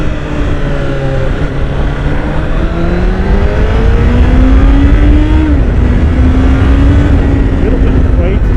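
A 2016 Honda CBR1000RR SP motorcycle engine revs up through rising and falling pitches, loud and close, with steady wind rush behind it.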